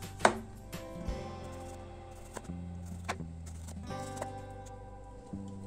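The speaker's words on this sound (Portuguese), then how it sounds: "Agora a gente vai cortar 4 dentes de alho em lâminas." Knife slicing garlic cloves into thin slices on a cutting board, a series of soft separate taps about a second apart with faint kitchen background.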